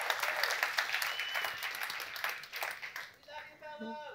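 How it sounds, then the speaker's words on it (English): An audience at a summit applauds a group of fellows, the steady clapping fairly faint and fading out, with a voice speaking over its final moments. "Let's give one big more round of applause to all of the Summit Fellows."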